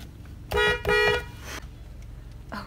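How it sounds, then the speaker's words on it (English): A car horn honks twice in quick succession, loud and close, followed by the low hum of a vehicle idling. "And all we have to do is honk."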